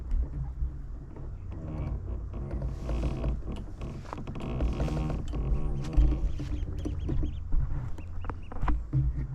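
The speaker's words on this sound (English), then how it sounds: "Nice little ducklings here." Ducklings on a canal peep and chirp in small high calls over a low steady background rumble of outdoor ambience, close and continuous throughout.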